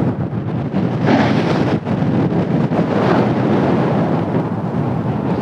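Strong wind roars across the microphone while paragliding above a hill, a loud, steady rushing buffet with gusty swells that never lets up and no voices.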